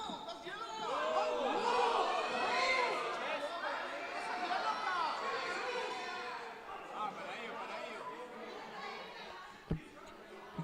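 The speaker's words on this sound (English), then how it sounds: "Big appeals from the crowd," Crowd and bench shouting in appeal at a Cockburn Wolves vs Condors FC quarter-final football match, a dense burst of overlapping voices that swells at the start then stays loud and steady, with a couple of sharp knocks near the end.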